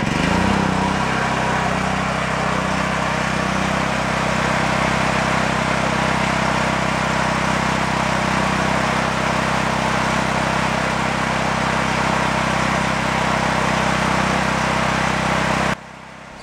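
A used portable generator engine runs after an electric start, a loud, steady, close drone with constant hum that continues unchanged until it stops abruptly at the end.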